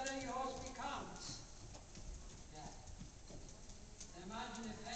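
A ridden horse's hooves clip-clop in a steady rhythm on a riding-lesson course while an instructor talks over them.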